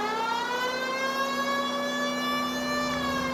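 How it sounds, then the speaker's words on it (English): A police car siren in the video game LA Noire holds a steady, continuous wail with strong harmonics, loud and alone with no talking. "Should I put on the siren?"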